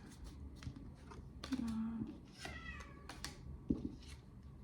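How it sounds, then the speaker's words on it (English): A cat meows plaintively a few times, fairly faint and distant, with quiet background noise and a soft tapping between cries. "my cat's outside. She's crying"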